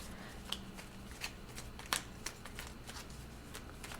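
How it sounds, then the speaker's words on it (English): Tarot cards shuffled and drawn by hand in a quiet room, a run of soft riffling flicks and sharp card snaps spaced irregularly, close and moderately loud with no talking. "Let's just focus and pull some cards quickly."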